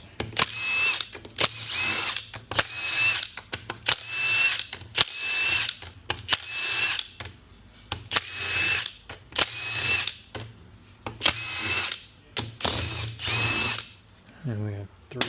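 A power tool, likely an impact driver or drill, zips out 10 mm transmission pan bolts on a Corvette 4L60E automatic. It runs in repeated short whirring bursts with brief pauses between them, close and loud.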